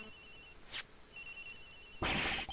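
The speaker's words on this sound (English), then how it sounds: "Agent Hick's phone! It's ringing from somewhere, sir" A cell phone rings in Ace Attorney Investigations, a thin electronic tone sounding in brief repeated pulses, fairly quiet, broken by short bursts of other game sounds.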